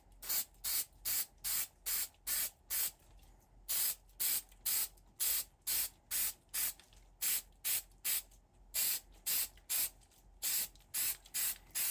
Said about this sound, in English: So I'll just spray this whole thing.